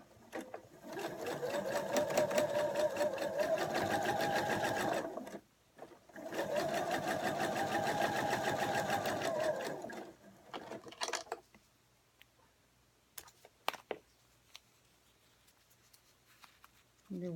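A sewing machine runs in two sustained bursts of fast whirring stitches through freezer-paper-pieced fabric, close up, followed by quieter clicks and handling sounds.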